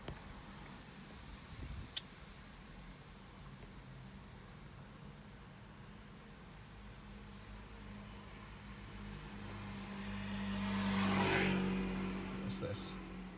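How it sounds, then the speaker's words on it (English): A moped engine on a Liverpool road swells from a distant hum to a louder buzzing pass near the end, under steady traffic background. "Just normal moped."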